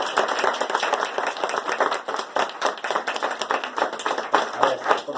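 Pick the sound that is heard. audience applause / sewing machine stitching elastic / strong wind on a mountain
audience applause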